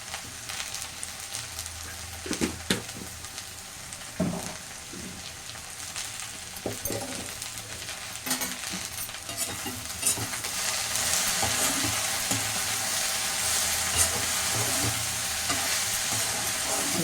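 Okra sautéing in a pan with salt, a continuous close sizzle broken by repeated scraping and stirring knocks of a utensil against the pan, growing denser toward the end, no talking.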